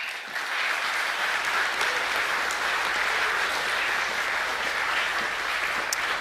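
Sustained applause from a school audience at an academic awards assembly, a dense, steady wash of many hands clapping together at even loudness throughout, with no talking over it.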